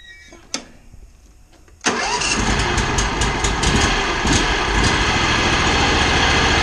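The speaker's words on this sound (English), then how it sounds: "I'm going to fire it up, let it run." A Ferris riding mower engine is started: a faint click and a short clunk, then about a second of quiet before the engine catches loudly and settles into a steady, rough running roar, close by with no talk.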